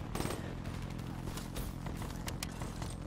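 Rapid gunfire crackles in a video game shooter match, a dense run of close, loud shots and clatter over continuous game noise.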